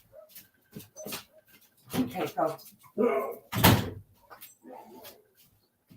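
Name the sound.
dog let out, barking at the door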